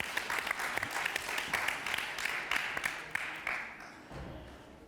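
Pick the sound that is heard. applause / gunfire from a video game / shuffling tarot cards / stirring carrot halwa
applause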